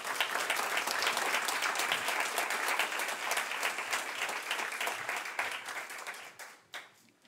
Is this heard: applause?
yes